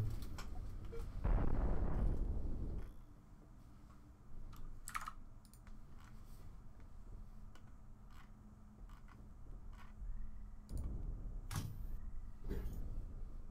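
Explosions from a bombing run in the space ship game Cosmoteer, a heavy low rumbling blast early on followed by scattered sharp impacts and another deep boom near the end, with clicking keyboard taps throughout.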